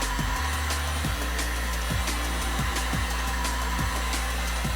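A heat gun blowing steadily on an acrylic strip, a continuous close fan-and-air roar with a low motor hum and regular faint clicks or ticks throughout, no voices.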